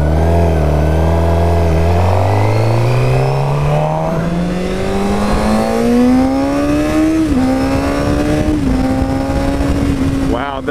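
A 2015 Suzuki GSX-R 600 sport bike accelerates hard up through the gears, its engine pitch climbing steadily with brief dips at each shift, loud and close with wind noise, while a rider talks over it.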